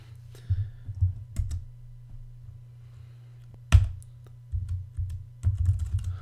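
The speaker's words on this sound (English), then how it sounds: "So I've typed viewfinder there" Typing on a computer keyboard to enter text for an After Effects motion tracking project, with quiet clustered key taps in short bursts and pauses, one sharper click standing out, and no talk.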